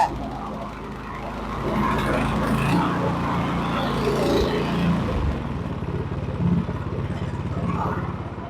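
A 26-inch Craftsman snow blower's small engine runs at a steady idle after carburetor work on year-old gas, a continuous low putter with faint clatter that holds evenly throughout.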